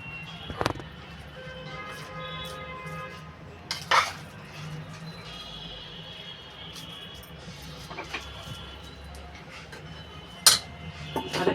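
Khichuri being served onto a plate at home, with metal utensils clinking and scraping in sharp scattered strikes against a quiet kitchen background, alone without talk.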